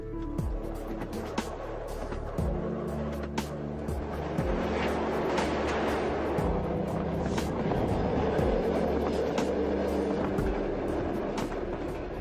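Train rumbling steadily along the Trans-Siberian route, a loud, continuous low drone with clattering wheels and shifting tones throughout, no voices.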